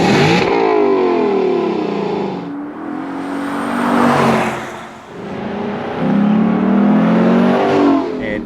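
Lexus LC 500 convertible V8 exhaust revving, loud rising and falling engine notes in several strong swells with resonant tone, close to the tailpipes.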